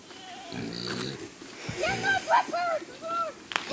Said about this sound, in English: The pigs are hungry.